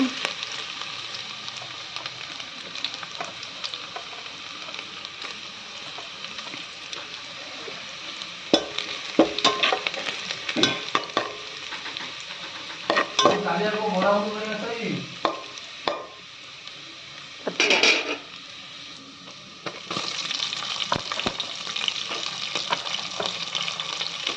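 Green chilies and chopped garlic sizzle and fry steadily in hot oil, a loud continuous crackle with occasional stirring scrapes and clatters.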